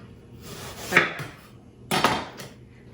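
A knife cuts through watermelon on a board while a watermelon cake is being made: two loud, close, clattering knocks about a second apart, with no speech.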